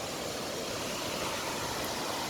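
Stigfossen waterfall in rural Norway rushes beneath a bridge, a steady broadband roar of falling and flowing water, loud and continuous with no voices.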